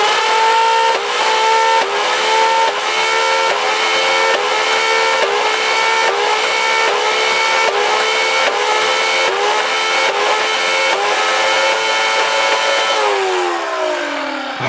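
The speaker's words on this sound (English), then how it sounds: "So let's rev this thing up and see how it does." A modified Nerf Rayven dart blaster's motor whines loud and close, firing darts in a steady rhythm of about one shot per second, then winds down at the end. No voices are heard.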